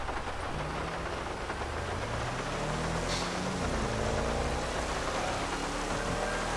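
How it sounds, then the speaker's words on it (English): A police car in GTA 5 with a EcoBoost engine accelerates hard, its rising engine tone running under steady rain-like noise from adverse weather. "you can hear that EcoBooster engine really kicking in when I'm flooring it"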